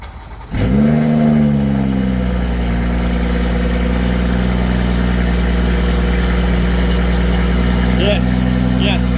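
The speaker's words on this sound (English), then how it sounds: "Let's see what it sounds like with the Project Gamma Catless Downpipe." A 2021 BMW M340i G20 with a B58 engine and a Project Gamma catless downpipe starts up to a loud, raspy idle that drones steadily and close, with a faint voice near the end.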